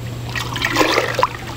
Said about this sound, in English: We'll get water here from this creek